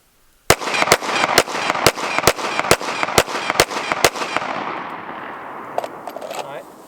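A full magazine is fired in a steady string of about a dozen loud, sharp gunshots at an outdoor farm range, each crack followed by a rolling echo that trails off into quiet after the last shot.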